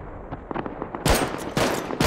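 Gunfire in the survival game Rust: a few quieter shots, then two loud, sharp close bursts of rapid fire, with no talking.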